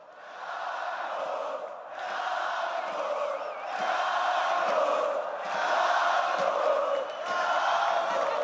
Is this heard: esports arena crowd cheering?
yes